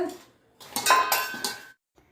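Set, solidified ghee scraped and mixed in a metal dish while making dry fruit atta laddu, giving a close, brief burst of metallic scraping and clinking that lasts about a second before stopping.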